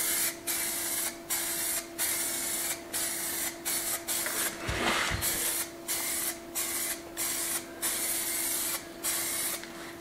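Spray painting in a Spanish farmhouse paint shop: a fast run of short, regular hissing spray bursts, with one longer, fuller blast near the middle, close and steady throughout.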